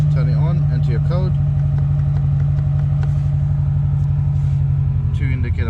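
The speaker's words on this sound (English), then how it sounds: "get in the vehicle, turn it on, enter your code" A 2023 BMW M8 Competition runs with a steady, loud low engine rumble throughout, with a voice talking over it near the start and end.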